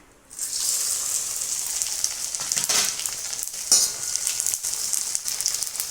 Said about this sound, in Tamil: வடகத்தை நான் போடுறேன், பொரிக்கிறேன்.